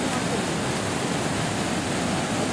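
Neer Waterfall near Rishikesh giving off a steady, loud, broadband roar of falling water with no breaks, heard up close.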